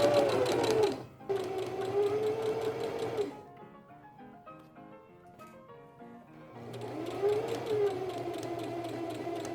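A sewing machine stitching the facing inside the legs of Edwardian drawers, running in steady close whirring bursts with a quieter pause of lighter clicking in between.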